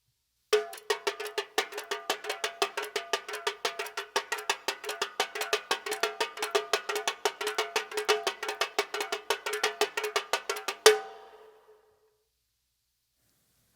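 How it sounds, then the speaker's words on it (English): A samba tamborim played with the takaraka technique, a long, fast, driving stream of sharp, bright metallic-sounding strikes with regular accents, close and loud, ending abruptly and ringing out into silence. "The tamborim also has a very interesting technique in order to get this takaraka sound."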